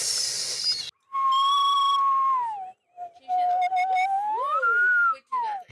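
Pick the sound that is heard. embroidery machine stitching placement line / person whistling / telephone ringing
person whistling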